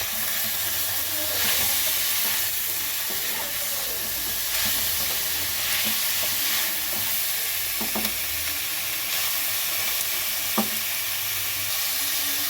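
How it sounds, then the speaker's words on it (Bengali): Chopped tomatoes, broccoli and capsicum fry in a pan with a steady, close sizzle and hiss, broken by occasional stirring scrapes, with no voices. "টমেটোগুলো দিয়ে হালকা করে একটু ভেজে নেবো এইগুলো"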